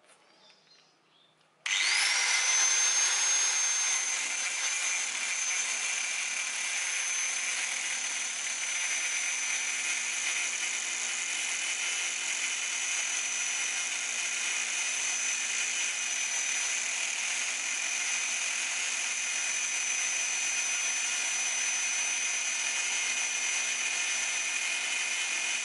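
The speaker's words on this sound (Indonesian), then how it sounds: "Kita akan mencoba tingkat kebisingan apabila kita gunakan gerinda Ryu ini untuk memotong besi." A Ryu RSG 100-3 angle grinder cuts through iron. It starts abruptly after a brief quiet moment, then gives a loud, steady, high-pitched whine that holds unchanged to the end.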